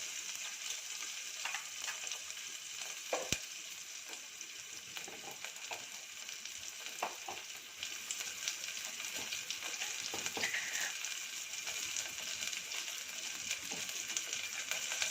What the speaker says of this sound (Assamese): পিঁয়াজখিনি অলপ ৰঙা হৈছে, এতিয়া সেইখিনি অলপ ৰঙা কৰিছোঁ।